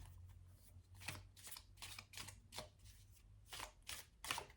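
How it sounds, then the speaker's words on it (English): Large deck of cards being shuffled during a tarot-style card reading; a quiet, close series of crisp riffling bursts in an uneven rhythm, alone without talk. "I just need to shuffle because it's quite a big deck"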